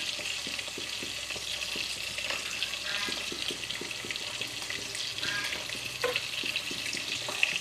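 Fish frying in a pan during home cooking of a spinach dish, a steady close sizzle with scattered crackles and light clinks throughout, no voices.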